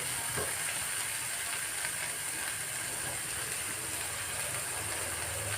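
Bread frying in a pan with egg, a steady close sizzle and crackle of hot oil running without a break, with a few faint scrapes and no talk.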